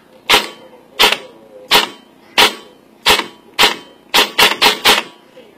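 A shimmed 300 FPS, 1-joule airsoft build fires on semi-automatic, giving nine sharp, close snapping shots: evenly spaced singles at first, then a quicker cluster of four at the end, with quiet gaps between and no talking.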